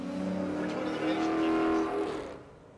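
Drag cars, including a Mazda Miata, launch on an elimination run at Tulsa Raceway Park, a strained engine drone with rising harmonic whine that peaks briefly and then fades away into the distance.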